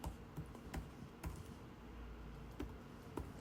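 Quiet, light typing on a computer keyboard entering a server name, with sparse individual key taps spread over a few seconds and a soft steady background hum.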